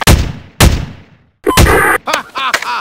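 Gunfire in a first-person shooter game on a Premier BB Park remake map: two loud sharp shots, then a louder burst with crackling weapon effects and ringing, chirping game sounds at close range.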